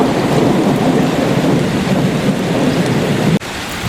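Heavy rain roars steadily with a thick wash of gusty wind, loud and close, briefly dipping near the end before resuming.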